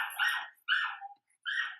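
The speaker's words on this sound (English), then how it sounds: "is a barking dog." A dog gives three sharp, close barks with short pauses between them, alone against silence.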